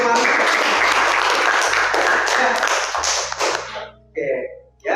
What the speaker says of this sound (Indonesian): gue tepuk tangan dulu untuk Mas.